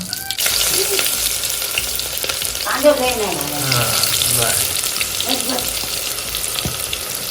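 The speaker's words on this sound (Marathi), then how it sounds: "तर आता इथे तेल तापलं असेल कढीपत्ता घालून घ्या नामराव हो, पाय वाटेल कढीपत्ता घातलाय त्यानंतर इथे हा मी बारीक करून चिरलेला कांदा" Chopped onion hits hot oil already holding curry leaves, giving a loud, steady sizzle and crackle close by. A brief scrape and some faint tonal background sounds run under the frying.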